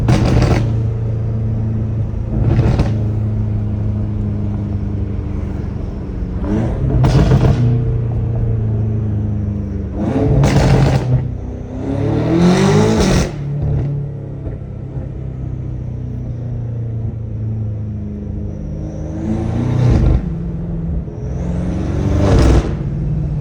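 A BMW M5 Competition engine revs in repeated sharp bursts, about seven loud blips and pulls spaced across the stretch, each rising quickly over a low idle rumble, close by, with no talking.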